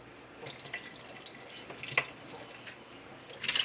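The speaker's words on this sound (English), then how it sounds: "We're going to dump these into our pot." Strawberries floating in their juice are tipped from a bowl into a pot, a wet pouring and dripping sound with soft splashes, loudest near the start and again at the end.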